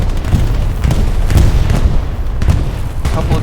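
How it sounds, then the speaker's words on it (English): Bombs land in the World War II shooter Hell Let Loose, a run of loud booming blasts with rumbling tails that follow one another in quick succession. "I think that was just the explosions."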